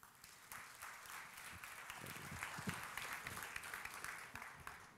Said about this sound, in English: please, a round of applause for Brad Kreit from the Institute for the Future